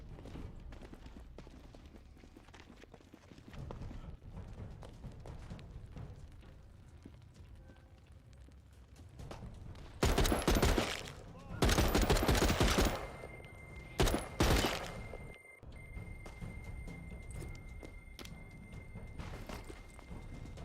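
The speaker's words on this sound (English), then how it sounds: "I can hear gunshots" Loud bursts of rapid gunfire break out in several clusters partway through, over a quieter background of scattered noises, in the video game The Walking Dead: Saints and Sinners.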